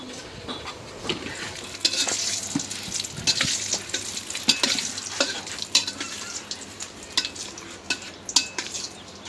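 Bay leaves and cumin seeds frying in hot mustard oil, a busy crackling sizzle with irregular sharp pops and occasional clinks of a spoon against the pan, close and lively.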